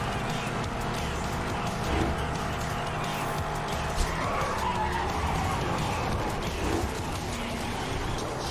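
A Mustang in the video game Need for Speed: Hot Pursuit slides sideways with sustained tire skidding over a roaring engine, loud and continuous.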